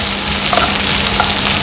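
Onion goes into a pan already frying ginger and green chili, and a loud, close, continuous sizzle fills the whole stretch with a slight stirring texture.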